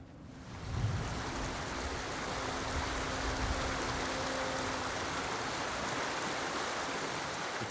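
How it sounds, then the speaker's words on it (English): Waterfall in the video game Ghost of Tsushima on Iki Island, PS5: a steady, full rushing roar of falling water that continues unbroken and evenly loud throughout. "Under the waterfall."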